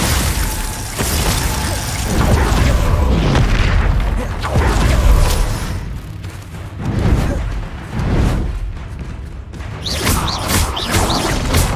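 Rapid, overlapping spell blasts from the Hogwarts Legacy video game, fiery Confringo bursts and icy Glacius hits, booming and crackling loudly and continuously with dense combat noise throughout.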